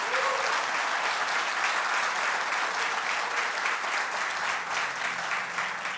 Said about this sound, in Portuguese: dar uma salva de palmas para Tati?